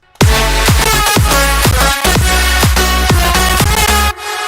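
Mastered electronic song, loud and dense, with a steady four-on-the-floor kick pattern under bright sustained synth chords, playing alone without voices.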